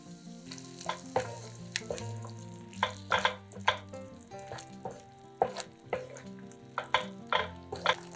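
Sour cream and a little flour being stirred into a filling in a hot frying pan, a steady sizzle under repeated scraping strokes of a utensil, close and fairly quiet, with no voices.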